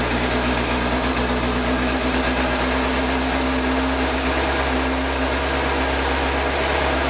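A Suzuki GSXR 750 K2 motorcycle engine idling after starting, a close, steady mechanical hum that holds constant with no revving.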